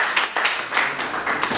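Audience applause at a medical CME talk on valve therapy, a short burst of steady, close clapping from a seated crowd filling the room without speech.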